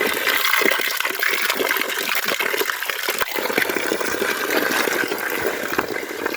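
Water pours steadily from a spring spout in Nepal, a continuous gushing splash with no break from start to finish, fairly close and alone without any voices.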